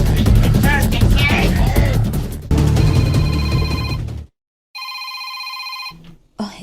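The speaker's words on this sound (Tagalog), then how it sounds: "Oh, si Inting nanawag na sad." A telephone rings in a short comedy drama scene, a clear electronic ring burst sounding after lively talk and noise, with people speaking before the ringing.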